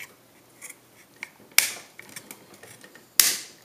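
A tripod head on a homemade PVC 180-degree camera inversion mount swivels with close mechanical clicks and ratcheting scrapes, including two sharp louder snaps.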